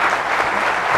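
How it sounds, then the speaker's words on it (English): An audience at a Take Pride 2016 stage event claps continuously, a dense, even patter of applause throughout the brief moment. "A big round of applause to these people on stage."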